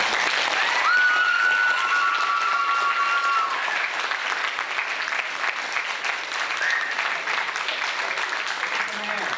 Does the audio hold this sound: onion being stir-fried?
no